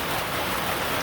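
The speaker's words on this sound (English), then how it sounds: "sorry about the rain" Steady rain on a rainy day in Jamaica, falling as a dense, even hiss of drops close by, with no voices.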